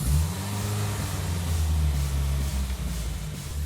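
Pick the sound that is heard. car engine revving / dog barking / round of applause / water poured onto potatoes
car engine revving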